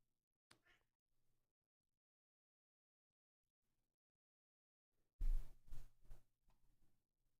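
A pet cat meows indoors in a quiet house. A faint short meow comes first, then after a long silence a louder, closer drawn-out meow trails into softer calls.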